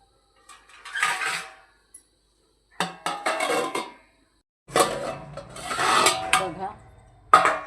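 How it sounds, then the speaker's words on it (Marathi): A lid goes onto a kadhai of simmering black pea usal, producing several separate bursts of metallic clattering and scraping, close by, with quiet gaps between them. "आता ठेवूया याच्यावर झाकण"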